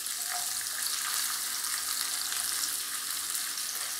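Onions dropped into a hot pan while making a Kerala-style beef curry fry with a steady, dense sizzle, close and constant throughout, with no voices.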